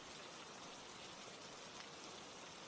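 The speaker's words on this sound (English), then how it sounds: "The sound of the brook is unhurried," Steady water sound of a babbling brook flowing over stones, a continuous soft broadband wash with no pauses, even and unhurried throughout.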